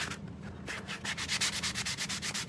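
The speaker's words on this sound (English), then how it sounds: "I'm going to take a sanding block and I'm just going to set this upside, sand my edges" Rhythmic scratchy rubbing of a sanding block over the edges of painted wood, steady back-and-forth strokes, close and alone.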